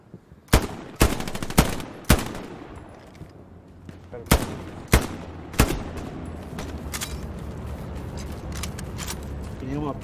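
Video game gunfire in a 35-versus-35 skirmish on a Utah Beach map: about eight sharp, loud shots in an irregular sequence, some in quick pairs, over a low rumbling battlefield background.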